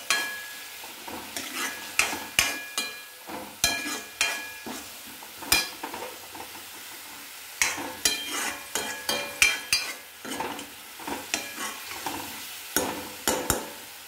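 Onions sautéing in a pan with a little salt, soft sizzling under a brisk, steady rhythm of spoon scrapes and knocks against the pan, close and continuous.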